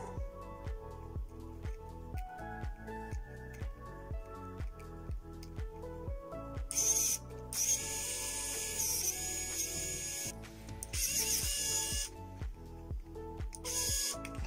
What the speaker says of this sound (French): Maintenant, je vais le revisser comme il faut.